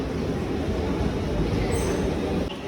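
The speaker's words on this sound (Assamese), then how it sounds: "ফাইনেলি আমাৰ ট্ৰেইন আহি গ'ল" A train pulling into a station, a steady low rumble of rolling wheels and carriages close by, with a faint squeal near the end and no talking.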